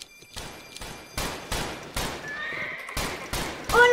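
A horse neighs amid bursts of gunfire in the Roblox western game Westbound, the shots coming as sharp repeated cracks across the span and the whinny rising near the end.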